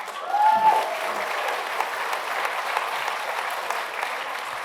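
Applause from an audience at a town hall meeting, a dense steady clatter of many hands clapping that holds loudly for several seconds, with a brief whistle near the start.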